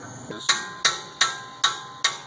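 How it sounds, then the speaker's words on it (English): Sharp metal hammer strikes on a Toyota Tundra rear brake caliper during a brake upgrade, five loud evenly spaced blows ringing close up in a garage. "But he likes hammering stuff."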